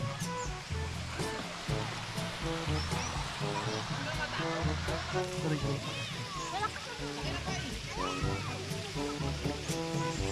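River water flows and sloshes continuously, a full steady rush close by, with a voice talking over it and occasional splashes.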